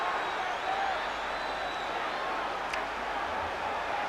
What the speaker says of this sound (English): Crowd absolutely on their feet all around this arena.